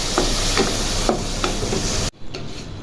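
Large chicken pieces fry with browned garlic in a pot, a steady loud sizzle with intermittent stirring scrapes, the sizzle dropping briefly near the end before resuming.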